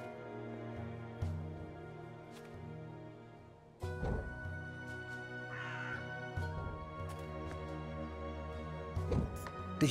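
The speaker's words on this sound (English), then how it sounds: "Go look for that goddamn bird over there." A talking bird in the game Dreamfall Chapters gives scattered, rough caws over a calm, tonal ambient backdrop, with a few louder bursts near the end.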